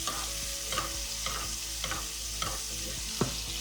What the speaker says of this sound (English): Tilt your pan and start to baste your steak.